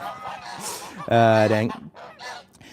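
Geese at a backyard flock where hens are being fed corn give a loud, close honk with strong harmonics lasting about half a second, among softer background noise and a brief spoken word.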